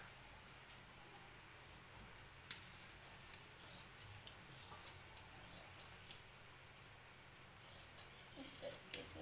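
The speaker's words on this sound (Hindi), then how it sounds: "काट लेंगे पीछे का भाग" Scissors snipping through blouse fabric to cut the back piece, a run of quiet close clicks and snips with one sharper cut early on, no voices.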